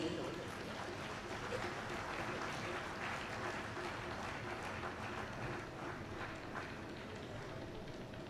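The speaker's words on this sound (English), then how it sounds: "A huge round of applause, please." Sustained applause from a conference audience at a Karnataka state-level conference panel session. It is a dense, even crackle of many hands that holds steady for about eight seconds without a break.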